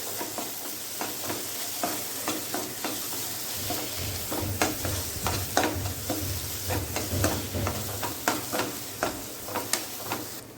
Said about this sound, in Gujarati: લાલ મરચું 1 ચમચી જેટલું ઉમેરશું અને તેને પણ મિક્સ કરી લઈશું